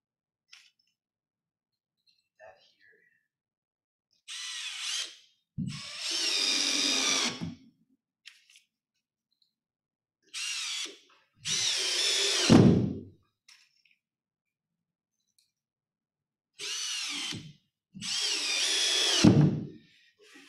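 A power drill drives screws into drywall in three separate pairs of whirring bursts, each a short spin followed by a longer one, close and clear with quiet pauses between.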